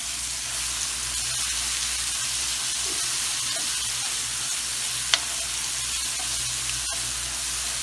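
Chutney for besan roti fries in a pan with a steady, close, even sizzle and hiss that runs throughout, broken only by one brief tick; no one speaks.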